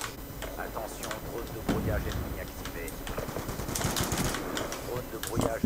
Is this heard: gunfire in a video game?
yes